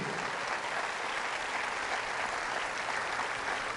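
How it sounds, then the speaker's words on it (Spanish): Continuous, vigorous clapping from worshippers during a Catholic priest's sermon in church, a uniform wash of applause holding at steady loudness for the whole stretch. "Dale este fuerte aplauso a Jesús."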